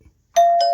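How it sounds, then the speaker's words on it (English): A newly replaced doorbell chime rings out loud and close, one sustained ringing tone that sounds alone after a brief quiet start. "we should go ahead and try the doorbell"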